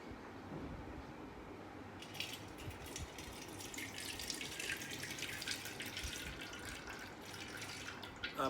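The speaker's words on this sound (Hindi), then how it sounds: "थोड़ा सा पानी इनके ऊपर चलाएंगे हम।" Tap water runs steadily over dishes being washed in a sink during a dishwashing liquid demonstration, a continuous close splashing hiss that grows brighter and fuller partway through.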